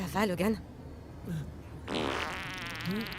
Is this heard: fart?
yes